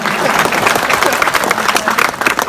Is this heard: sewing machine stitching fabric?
no